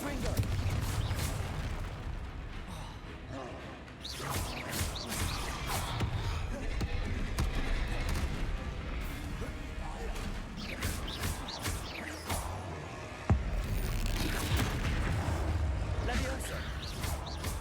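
A rapid barrage of Confringo spell explosions fires in the Hogwarts Legacy video game, with dense, overlapping booms and crackles over a constant rumbling din. A voice talks over the fighting.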